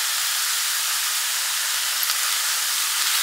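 Water poured into a pan of frying onions sets off a loud, steady sizzling hiss that holds evenly throughout, close and bright with no talking over it.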